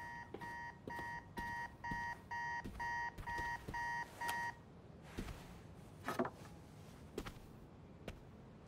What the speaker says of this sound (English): Why would you ask that if the alarm is still going on?